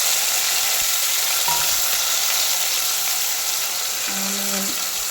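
Tomato, onion and green chilli fry in hot oil in a pan, giving a steady, dense sizzle throughout, with a couple of faint clinks partway through.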